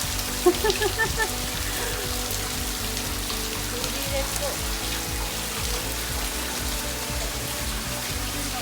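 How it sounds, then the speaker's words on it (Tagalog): Steady rain hisses throughout on a hiking trail at Cape D'Aguilar, Hong Kong, a dense wash of falling water, with a brief voice speaking near the start. "Umulan na."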